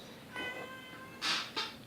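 A pet cat named Bella gives a drawn-out meow followed by two shorter, sharper meows, close and clear in a quiet room with no talking.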